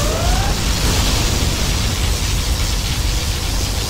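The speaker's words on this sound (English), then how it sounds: "Particle cannon activated." A particle cannon fires in the strategy game Command & Conquer Generals Zero Hour, a loud roaring blast of dense noise that holds steady and unbroken throughout, with a faint rising tone at the start.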